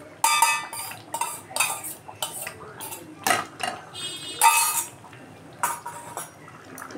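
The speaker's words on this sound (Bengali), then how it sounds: "এবার আমি এর মধ্যে ডিমের ভুজিয়াটা দিয়ে দিচ্ছি" Scrambled egg bhujia tipped into a pan of chicken curry, with a metal spoon repeatedly scraping and clinking against the pan in uneven bursts, close and clear, with no talking.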